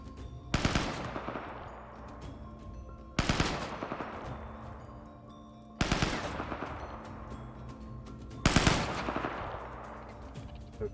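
RimWorld gunfire comes in four sharp, loud bursts of rapid machine-gun fire spaced a few seconds apart, each rattling volley decaying into a ringing tail.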